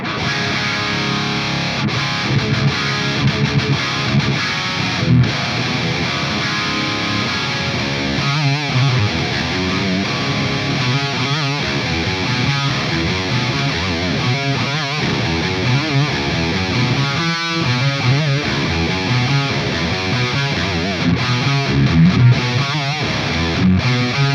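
Heavily distorted electric guitar through a Synergy Syn20IR with DRECT module plays a dense, continuous riff, loud and saturated with fuzzy grit from start to finish.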